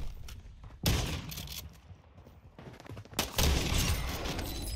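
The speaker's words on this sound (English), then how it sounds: "The Shmovin shotgun is just too much" Shotgun blasts in Warzone 2 on the Vondel map: two loud, broadband booms a couple of seconds apart, each trailing off into a noisy decay over low background game sound.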